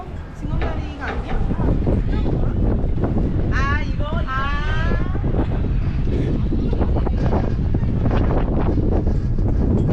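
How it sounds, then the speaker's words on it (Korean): Strong wind gusting at sea near Ulleungdo, loud buffeting roar against the microphone with boat and wave noise beneath, while people talk over it. "아슬아슬하게 분다 바람이 좀 더 불었으면 못 다녔겠다"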